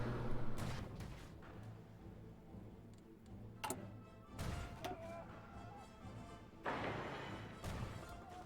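Aerial bombing in the strategy game Hearts of Iron IV: a quiet bed of low rumble broken by a few scattered sharp impacts and bursts, spaced irregularly across the stretch, fairly faint overall.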